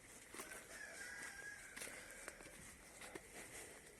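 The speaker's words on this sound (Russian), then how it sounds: "Сейчас глянем у курочек, как дела." Chickens settle in a henhouse in the evening as a rooster gives a drawn-out crow amid soft clucks, with light scuffling footsteps nearby and no talking.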